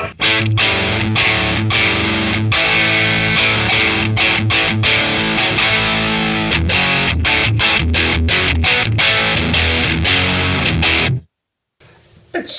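Electric guitar through a Fender Hammertone Distortion pedal, heavily distorted, playing loud chugging riffs with rhythmic stops, then a brief silence and a short burst at the end.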